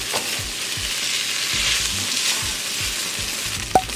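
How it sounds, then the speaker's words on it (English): Beef pieces for beef and broccoli sizzle loudly in a pan while being stirred to finish thawing. Close frying crackle continues under repeated scraping strokes, ending with a sharp clink. "we're just going to keep on mixing this steak until I see that they are all defrosted"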